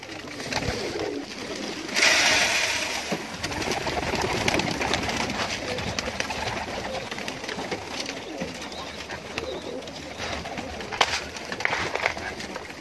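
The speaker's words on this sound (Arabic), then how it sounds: "تعالوا بقى كده نعلف مع بعض الحمام عشان طبعا هو شكله كده جعان." Hungry pigeons in a loft coo steadily as they are fed grain, a soft continuous murmur of many birds close by with occasional wing flutters and shuffling.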